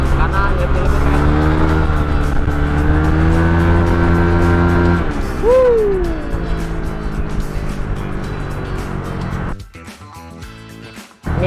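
A Honda ADV 150 scooter with a modified throttle body and oversized exhaust idles and revs loudly nearby, a steady droning engine note that rises in pitch, then cuts off, with a voice talking over it.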